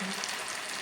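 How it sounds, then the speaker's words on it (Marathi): Veg Manchurian balls deep-fry in oil over a low flame, producing a brief, steady bubbling sizzle that stays close and even with no voices. "मंद आचेवर आता आपण मंचुरियन तळून घेणार आहोत."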